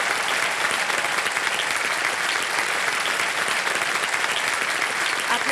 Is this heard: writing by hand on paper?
no